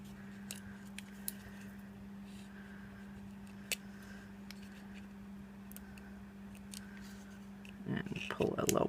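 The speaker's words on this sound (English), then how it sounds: "I'm going to take my scissors and neaten this up" Scissors snip and trim paper for a Label Me Bold cupcake topper, giving a few faint, sparse clicks over a steady hum before louder handling noise at the end.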